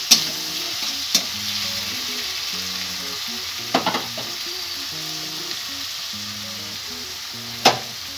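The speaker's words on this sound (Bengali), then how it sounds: "3টে কাঁচা লঙ্কা দিয়ে দিলাম। এগুলো একটু ভালো করে ভেজে নেব।" Onion paste and three green chillies frying in a pan, a steady close sizzle with a few sharp clinks of stirring, under a faint tonal background melody.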